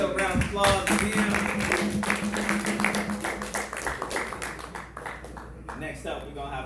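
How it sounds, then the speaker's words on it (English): An audience at an African Liberation Day community celebration breaks into a round of applause, dense clapping mixed with cheering voices and a tonal sound early on, then thinning out and fading toward the end. "Let's give ourselves a round of applause again."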